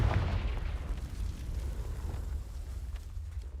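Confringo blasting spell explosion in Hogwarts Legacy, a loud, sustained rumbling blast with deep low-end roar that fades slowly over a few seconds, heard alone.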